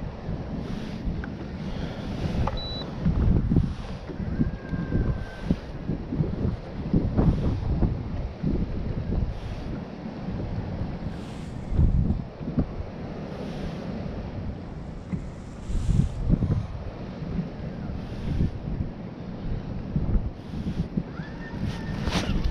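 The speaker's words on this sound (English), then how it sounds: "But you can hear that wind." Wind gusting across a lake while fishing from a boat, a steady rushing roar buffeting the microphone with louder surges throughout, water slapping faintly beneath.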